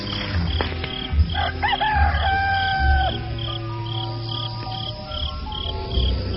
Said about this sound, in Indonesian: Kalian dengar suara kokok ayam jago itu?